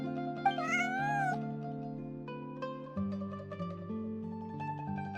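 A spotted cat in Genshin Impact gives a short, clear meow over a calm, steady musical background.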